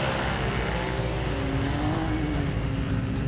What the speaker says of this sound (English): The Razor shot off the line and headed off into the first race of the day.